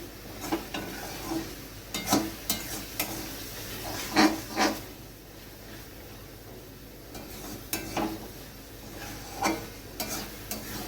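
Thickened spinach with soybeans fries gently in a pan, its water cooked off, with a soft continuous sizzle broken by repeated scraping stirs of a utensil against the pan, and no speech.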